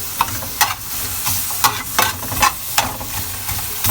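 White onions sizzle in a pan for tinolang buto-buto ng baboy, with regular scraping stirs of a utensil punctuating the steady frying hiss about every half second.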